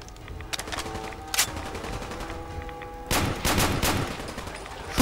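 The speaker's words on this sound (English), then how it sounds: "Shoot them on their legs." Video game gunfire in Fallout 4: bursts of rapid shots crackle at moderate loudness, a short early volley, then heavier sustained firing in the latter half, with no talk over it.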